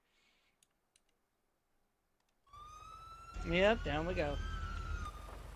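Police sirens wail in a role-play video game, rising in loudly after a quiet stretch of faint clicks and continuing under a person's brief spoken words.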